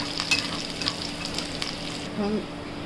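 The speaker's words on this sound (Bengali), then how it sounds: "আর একটা তেজপাতা দিয়ে কিছুক্ষণ নাড়াতে হবে।" A bay leaf and whole cumin frying in oil in a pan while being stirred, a bright continuous sizzle with quick scraping strokes, close and loud, no talk.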